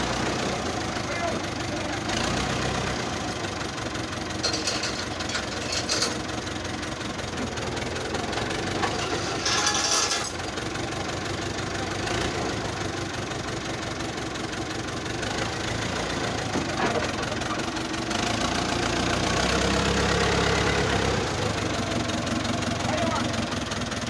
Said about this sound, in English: The tractor have to lift up this end.